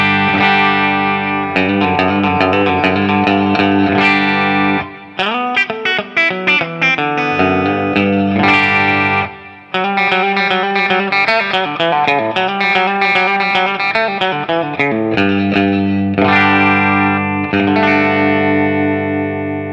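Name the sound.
Telecaster chords on bridge pickup with carbon fiber Holland neck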